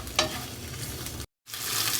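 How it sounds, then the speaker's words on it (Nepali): Chicken feet deep-fry in hot oil, giving a loud, dense, continuous sizzle with crackling pops and a stirring scrape, cut by a brief silent gap before the frying resumes. "मजाले तेलमा हालेर मजाले पडपड भुट्नुहोस्"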